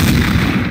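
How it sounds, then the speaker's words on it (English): Gunfire rings out in the video game Counter-Strike: Source as a loud, dense, booming burst that fills the whole moment, with no voices over it. "Wait, someone's shooting at me."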